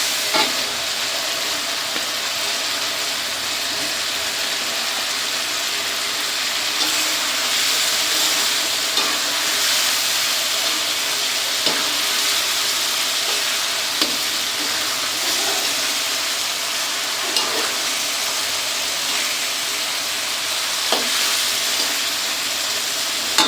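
Fried katla fish goes into a sizzling pan of cooked-down spice paste, giving a steady broadband frying hiss throughout with faint stirring clicks and no voices.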